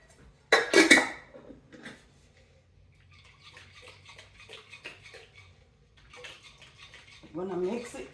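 Cucumber egg salad with lime juice, salt and pepper being stirred in a bowl: a loud clink of utensil against the dish, then soft scraping and tapping, with brief talk at the end.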